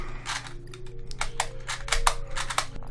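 A QiYi Clock puzzle being turned quickly produces a rapid, irregular run of sharp plastic clicks and clacks close up, fairly noisy over a faint steady background hum.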